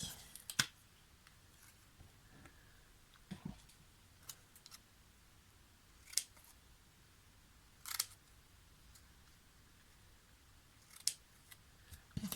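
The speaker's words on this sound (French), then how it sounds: "on coupe tous les petits bords de couture" Scissors trim the small edges of a handmade scrapbook mini album, producing sparse, quiet snips and clicks at irregular intervals, about seven in all, against near silence.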